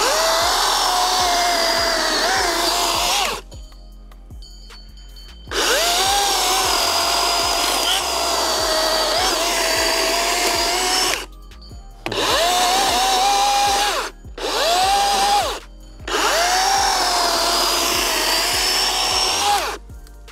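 A Dewalt DCM575 54V FlexVolt cordless chainsaw cuts through wood, its motor whining loud and steady through several long bursts with brief quiet gaps between cuts.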